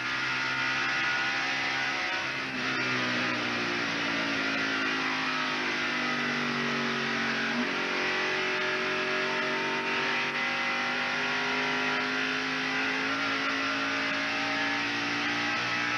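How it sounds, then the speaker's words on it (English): A NASCAR Winston Cup race car at the 1991 Southern 500 roars from an in-car position, its engine note rising and falling steadily with the throttle, loud and continuous throughout. "Now listen and watch the relationship between the throttle and the noise."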